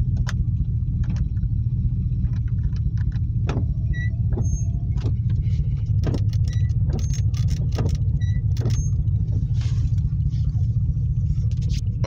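A 1989 Chevrolet Silverado truck engine runs after a boost start, holding a steady low idle rumble heard close throughout, with scattered clicks and ticks over it.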